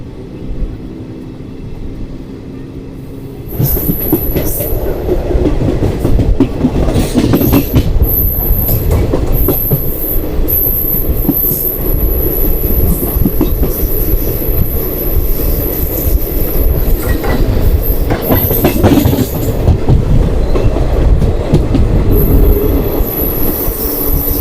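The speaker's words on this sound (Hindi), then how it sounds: "अब 10:42 पर हमारी ट्रेन यहाँ से डिपार्ट हुई है।" The Ranikhet Express passenger train rolls on rails in India near Bandikui, a loud, close, continuous rumble with rhythmic clatter and high wheel squeal, picking up after a quieter opening few seconds.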